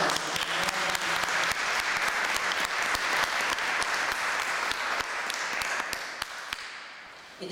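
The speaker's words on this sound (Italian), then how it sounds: "Quindi un ringraziamento, pregherei di fare anche un bel applauso a Benedetta." Steady, full applause from an audience at an Italian book presentation for an illustrated book about Pope Francis, with dense clapping that stays loud and even for several seconds before tapering off at the end.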